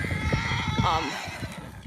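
A gaited horse, once a buggy horse, gives a short whinny partway through, set against steady outdoor noise and faint low voices.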